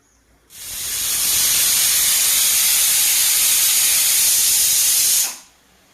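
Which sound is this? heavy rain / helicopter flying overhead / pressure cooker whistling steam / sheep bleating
pressure cooker whistling steam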